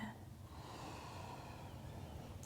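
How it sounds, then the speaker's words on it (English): A slow, deep breath is drawn in and released during a calm yoga flow, a soft airy rush heard close but very faint, steady over a couple of seconds. "Calm breath in."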